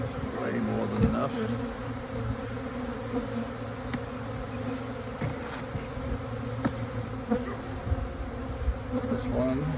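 Bees buzz densely and steadily around an opened beehive during a spring hive split, a close, continuous hum with occasional brief rises as individual bees pass the microphone.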